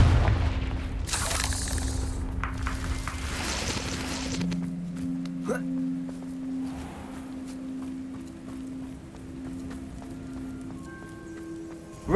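Fiery Confringo spell blasts in the Hogwarts Legacy video game, a loud burst early on followed by crackling, booming effects and a sustained magical hum fading under game ambience.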